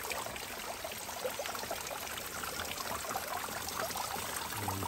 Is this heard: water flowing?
yes